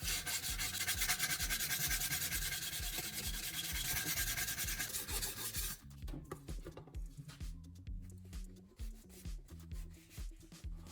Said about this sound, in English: move the sanding tool along the cutting edge in smooth, even strokes.